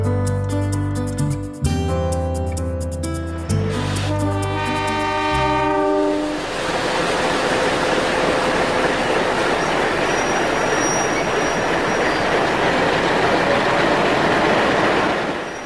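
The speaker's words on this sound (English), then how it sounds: "A Commonwealth Railways standard gauge train has arrived on the platform" A Commonwealth Railways standard gauge train in 1960s Australia rolls into a station platform with a long horn blast, clattering wheels and squealing brakes, then a steady hiss of noise as it slows alongside.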